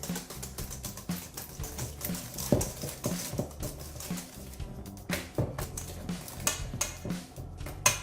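Butter, eggs and sugar being creamed for a plum cake: a steady, busy clatter of beater or spoon against the bowl, close and fairly loud, with rhythmic scraping knocks throughout and no talk.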